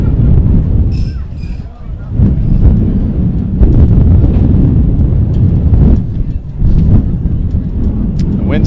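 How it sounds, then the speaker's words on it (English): Wind gusting across the open field at Baker Field during a spring sports event, a loud, steady low rumble of buffeting against the microphone with brief dips and surges. "Wind starting to pick up here in Baker Field."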